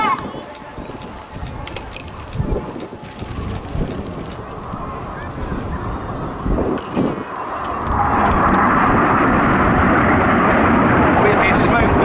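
Red Arrows display jets at Cosford Air Show 2017 roar overhead during the Jippo break, a distant jet rush swelling into a loud, broad roar toward the end, with wind buffeting the microphone and a commentator talking over it.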